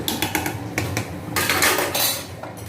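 Metal clatter of a pressure cooker lid being set down and closed, then the weight placed on top, a few close sharp clinks followed by a brief scraping rattle, with no talk.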